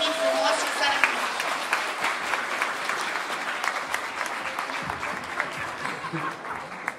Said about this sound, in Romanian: Aplauze încă o dată, da?